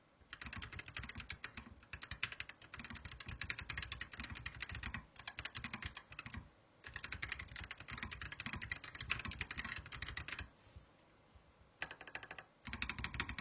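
Steady, brisk typing on a Keychron K1 Pro low-profile mechanical keyboard, dense rapid keystrokes with a couple of short pauses, close and clear with no talking.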